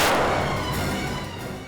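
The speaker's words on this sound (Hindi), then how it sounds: "तभी अचानक एक गोली चलने की आवाज आई" A single loud gunshot cracks at the start, then a long booming echo slowly fades away.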